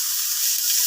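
Pork sautéing with onion and garlic in a pan, giving a brief, steady, bright sizzle with no other sounds.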